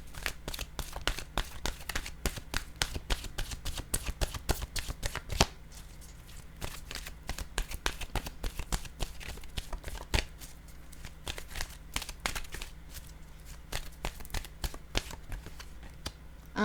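A deck of oracle cards is shuffled continuously, producing a dense, rapid stream of soft riffling flicks and slaps up close, with brief irregular pauses and no talking.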